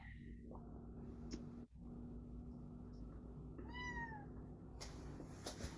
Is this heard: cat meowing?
yes